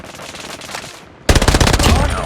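Hostile sentry gun in COD Mobile opening fire: a quiet stretch of game ambience gives way to a sudden loud burst of rapid automatic gunfire that keeps hammering close by to the end.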